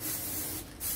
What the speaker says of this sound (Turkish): siyah sprey boya.